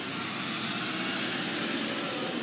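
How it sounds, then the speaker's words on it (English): A car passes near a closing Kmart store, its engine and road noise forming a steady, fairly loud rumble with no clear rise or fall and no voices. "car passing again,"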